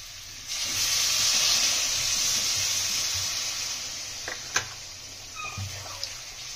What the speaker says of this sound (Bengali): আমাদের মশলাটা কষা হয়ে গেছে, আমরা আলুগুলো দিয়ে দেবো। অল্প একটু জল দিয়ে দেবো।